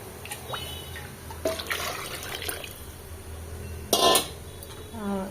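Water poured into spiced tomato and rice in a pressure cooker, heard as brief splashing bursts with one louder gush near the middle over a quiet kitchen background.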